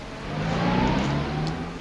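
Period car in a Sherlock Holmes audio drama pulling away, its engine revving and accelerating with a steady, fairly close whirring drone and no voices.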